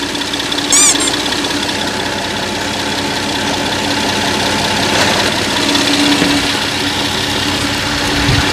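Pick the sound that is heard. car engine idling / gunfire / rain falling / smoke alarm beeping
car engine idling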